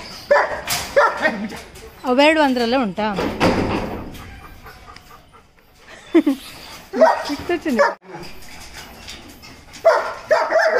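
A young pet dog barks, yips and whimpers excitedly at close range in a home, in short irregular bursts, while people talk nearby.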